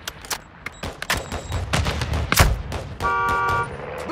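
Call of Duty: Modern Warfare II combat with bursts of gunfire, sharp shots scattered then a dense volley, plus a sustained horn-like tone near the end.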